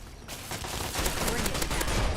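Rapid turret gunfire in Fallout 3 Broken Steel, a dense stream of loud sharp shots that starts after a brief quiet moment and keeps rattling until the end.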